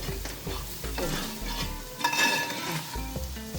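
Roasted spice powder being stirred and fried in a pan on low heat for Kerala Kottayam-style beef roast: close, steady sizzling under repeated scraping strokes of a spoon against the pan, with no talk.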